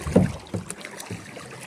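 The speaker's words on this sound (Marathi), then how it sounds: "हा इले ई बोट इली" Near Khavane beach, a kayak arrives on the water with a few soft splashing strokes and gentle wind, close and brief.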